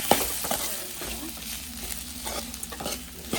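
Spoon stirring potato bhaji with turmeric in a hot pan, soft scraping strokes repeating every half second or so over a low sizzle, close and quiet.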